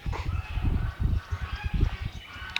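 A white peacock calling at a campsite, loud repeated honking cries in quick rough bursts, close by and with no talk over them.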